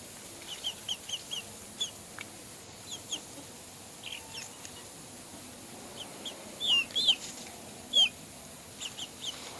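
Several chickens cluck in short scattered calls throughout, with a couple of louder, brighter squawks near the end, a rooster among them, over a low steady outdoor background.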